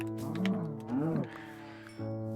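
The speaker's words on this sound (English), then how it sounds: "Hello, cow." Cow mooing in Minecraft, the blocky animal's low drawn-out moos repeating twice over a steady game background hum, close and clear with no talk.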